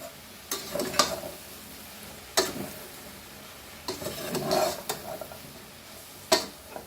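Xacuti masala powder is stirred into a pot of Goan pork curry, with intermittent scraping strokes and a faint sizzle underneath. The strokes come in uneven bursts at close range, and no one speaks.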